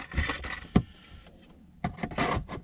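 Plastic trim panel on a 2020 Ford F-150 interior being pried loose, giving a few sharp clicks and snaps from stiff clips, close up, with brief pauses between pops.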